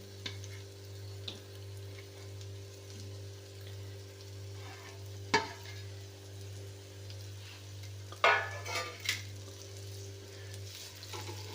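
Halved boiled eggs fry in a pan of oil for a tomato egg fry, giving a soft, steady sizzle. A few light clatters are heard as the pieces are turned over.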